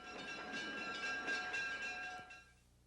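Train wheels rolling on rails in a train yard, a steady, fairly loud rumble with faint clatter that holds for over two seconds, then drops away abruptly near the end.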